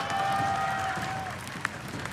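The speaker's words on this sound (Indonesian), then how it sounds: "Mana tepuk tangannya?" Audience in the MPL Arena at a Mobile Legends esports playoff between RRQ and Aura, clapping and cheering as a steady, dense crowd wash heard from a distance, with a faint electronic tone and brief shouts over it.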